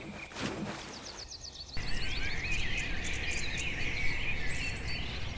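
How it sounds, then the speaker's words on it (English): At dawn in reedy African wetland beside a river, birds give high, repeated chirping calls over a continuous, droning buzz of insects, moderately distant, with no voices. "Birds fly in flocks, calling each other in the clear sky, the sound of insects buzzing like an endless soundtrack."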